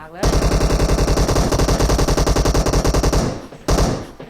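Loud, rapid automatic gunfire in PUBG Mobile rattles in one sustained burst of about three seconds, followed by a short pause and another sharp shot.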